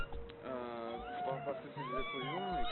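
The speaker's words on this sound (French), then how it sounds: "Vous avez vu, depuis tout à l'heure, ils sont en train de miauler" Cats meowing on a Paris street, drawn-out wavering cries rising and falling over continuous French conversation and background noise, fairly faint.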